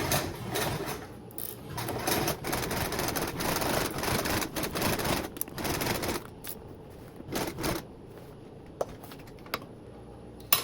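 Sewing machine top stitching through layers of vinyl with a 3/8 seam, a steady rapid mechanical whir in long bursts that pauses and then resumes in short runs toward the end.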